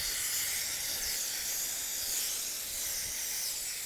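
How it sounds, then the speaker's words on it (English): Water spray rinsing a dog's tail during a bath, a soft steady hiss that is continuous and fairly quiet throughout. "Rinse off that tail."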